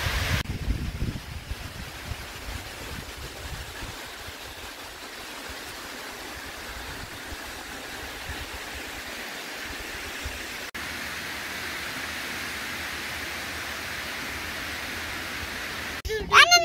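Water from the dam pours down at Murguma in Purulia, a steady broadband rush that holds evenly throughout, heard from a short distance with a brief louder burst near the end.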